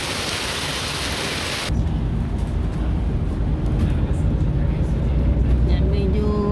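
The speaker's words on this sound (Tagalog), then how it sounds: "humina na yung ulan" A heavy downpour with thunder sounds as a dense, constant roar of rain that shifts in character partway through, loud and close, with low rumbling underneath.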